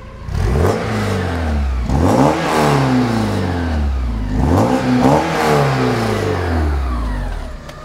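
A Dodge Viper engine revs through its twin-pipe exhaust, rising and falling in several loud, close surges with a metallic, buzzing edge, no voices over it.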